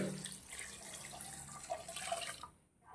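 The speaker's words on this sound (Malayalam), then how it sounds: "ആവശ്യത്തിന് ഇനി വെള്ളം ഒഴിച്ചു കൊടുക്കാവേ" Water runs steadily from a tap into a cooking pot with a splashy, hissing flow that cuts off abruptly near the end.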